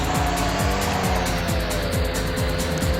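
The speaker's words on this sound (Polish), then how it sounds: "Jak ten skuter się rozpędza." A scooter revs and accelerates steadily in the Zipp Racing video game, a loud continuous engine drone with rising pitch and repeated gear-like sweeps throughout.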